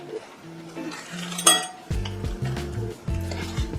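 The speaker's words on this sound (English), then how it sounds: "It is called a toddy ladle." A Georgian-era silver toddy ladle clinks and chinks as it is handled, with one sharp bright ring near the start followed by denser metallic knocks and scrapes close by.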